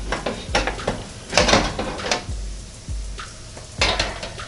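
Metallic clanks and scrapes as a baking pan and crisper tray are pulled out of an Emeril Lagasse Power Air Fryer 360 XL after cooking bacon, several sharp close knocks spaced irregularly with brief pauses between them.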